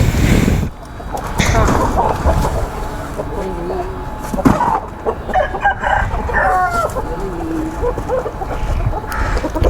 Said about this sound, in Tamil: ஒரே பாக்ஸில் 2 கோழி போட்டு வச்சுருக்காங்க.